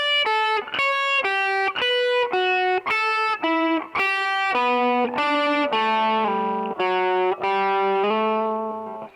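An electric guitar played through effects picks the first part of a song as a steady run of clear, sustained single notes and slides, with a gentle chorus-like shimmer, fading on the final note, no talking.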